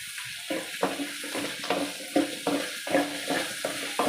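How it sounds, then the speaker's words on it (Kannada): Grated raw mango frying with onions and curry leaves in a pan, a continuous close sizzle broken by rhythmic scraping stirs about every half second, with no talking. "ಮಾವಿನಕಾಯಿ ತುರಿ ಹಾಕೊಂಡ್ಬಿಟ್ಟು ಚೆನ್ನಾಗಿ ಫ್ರೈ ಮಾಡ್ಕೊಬೇಕು."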